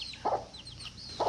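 Chickens cluck in two short, close bursts over a quiet outdoor background, with faint birdsong higher up.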